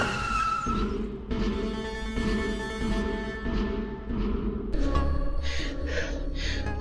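A car brakes hard and skids to a stop as it pulls over to the roadside, a loud sustained tire noise with engine rumble and a sharp jolt near the end, no talking.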